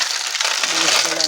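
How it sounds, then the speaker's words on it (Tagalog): Clams tumble into a pot of sayote soup for tinolang tulya, a brief, bright clatter of shells knocking and rattling together. "Lagyan natin yung tulya."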